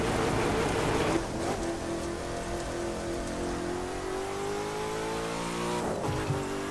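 Shelby GT500 engine in The Crew 2 racing game, driving in rain: a sustained engine drone rises slowly in pitch over steady rain noise, with a brief rev near the end.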